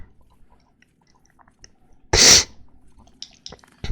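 A single sharp, loud sneeze bursts out close to the microphone, preceded and followed by faint clicks and small noises in an otherwise quiet room.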